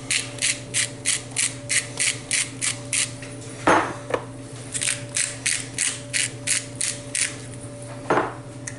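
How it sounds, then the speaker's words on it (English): A peppermill grinds pepper into Italian salad dressing in a steady run of close, crisp ratcheting crunches, pausing briefly before another quick series of grinds. "a few grinds of the peppermill"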